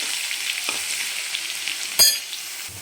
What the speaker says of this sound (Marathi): आपण थोडंसं 5-6 लसणाचे पाकळ्या आपण ठेचून घेतलेले आहेत ते टाकणार आहे आणि छान असं सोनेरी कलरवर परतून घेणार आहे